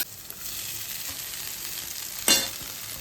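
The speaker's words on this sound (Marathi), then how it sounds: "आता हे आपण फोडणीमध्ये टाकूया।" Poha for Maharashtrian kanda poha tipped into hot tempering in a pan: a low steady hiss, then a sudden loud burst of sizzling that slowly settles back down.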